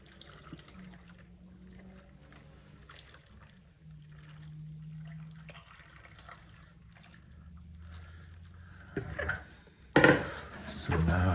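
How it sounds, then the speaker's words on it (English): Water is poured into a container for a plant, first as a soft trickle and then a louder, fuller splash toward the end. "now we're just going to pour some water."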